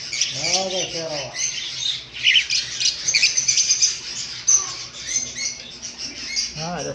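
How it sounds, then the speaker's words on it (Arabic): A curlew calls among other birds, sharp squawks and chirps repeating over a busy, fairly loud chorus of bird sounds. "هذا كروان."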